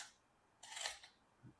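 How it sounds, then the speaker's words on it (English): Box packaging for a COLDCARD Q Bitcoin hardware wallet is cut open with a blade, giving a single brief, quiet, close slicing scrape of about half a second in otherwise near silence. "We're going to cut this open and see what's inside."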